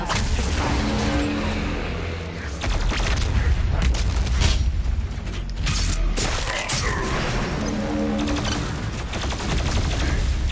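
The BFG 10,000 firing in Doom Eternal, heavy booming blasts and grinding machinery rolling through continuous dense game noise for several seconds, with no talking.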